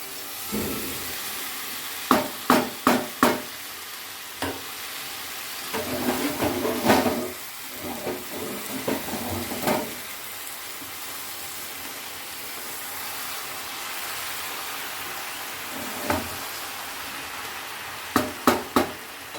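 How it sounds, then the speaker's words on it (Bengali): A spoon stirs mixed Bengali winter vegetables in a hot pan, scattered sharp scrapes and clacks in small bursts over a faint steady sizzle, with quiet gaps between strokes. "একটু নেড়ে টেড়ে দিই"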